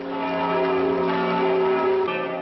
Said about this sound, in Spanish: una boda celebrada en Austria y en la que repican las campanas que vemos ahora